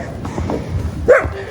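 A single short, sharp dog bark near the end, following faint low rustling and muffled background noise.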